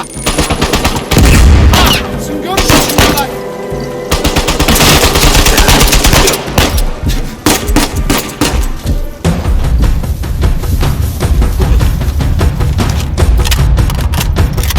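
Gunfire in the video game Uncharted 4 is loud and nearly constant, with rapid automatic bursts and single shots layered over heavy thuds and booms.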